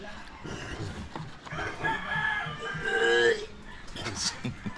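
A rooster crows over clucking chickens nearby, with people talking in the background throughout.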